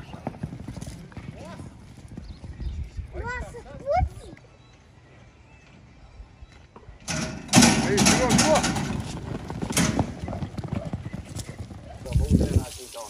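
Horses' hooves clip-clop at a ranch in Salto de Pirapora, Brazil, a few irregular clops under talking and ambient noise, with a louder busier stretch toward the end.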